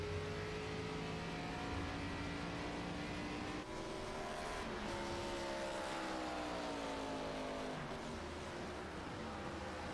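A simulated race car laps Virginia International Raceway in iRacing, its engine droning loudly and continuously with rising and falling pitch through gear changes and corners, alone without talk.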